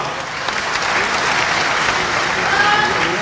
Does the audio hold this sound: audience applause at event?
yes